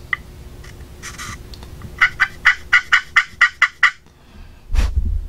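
An HS Sweet Suzie Snood turkey call, worked with a striker, gives a few scattered scratches and then a quick run of about eight evenly spaced, clear yelps. A dull thump follows near the end.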